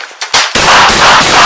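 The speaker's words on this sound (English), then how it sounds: "Shots fired, officers, help." A police shootout in Los Angeles, with loud, sharp gunshot bursts at close range followed by sustained, broadband gunfire noise that fills the rest of the moment.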